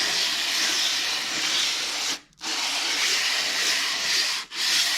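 Sandpaper of 180 grit wrapped on a wood block, pushed across an engine block deck in long strokes, a close steady abrasive hiss with two brief pauses between passes.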